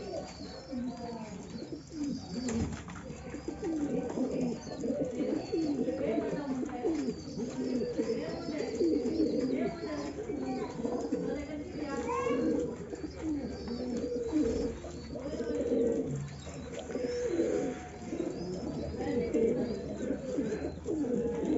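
A pair of Ferozpuri pigeons sitting on eggs coo steadily and repeatedly at close range, their low throaty calls overlapping throughout with a few faint chirps behind.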